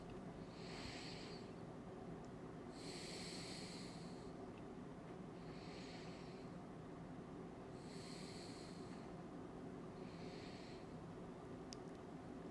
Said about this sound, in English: breathe deeply and abdominally and slowly breathe out